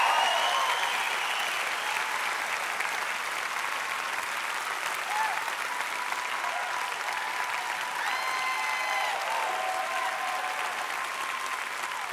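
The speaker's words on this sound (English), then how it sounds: "Some of y'all are clapping because you know that I'm about to tell you Ethan Vance has moved back from California." Applause from a church congregation fills the room: dense, steady clapping sustained throughout, with a faint voice and scattered cheers rising over it.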